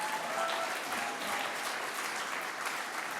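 An awards-ceremony audience at the 2021 Scottish Health Awards applauds the People's Choice Award finalists with steady, dense clapping that fills the hall evenly for a few seconds, moderately distant and without speech.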